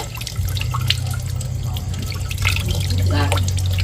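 Small frogs are washed by hand in a basin of water before boiling, with close, continuous sloshing, splashing and dripping throughout.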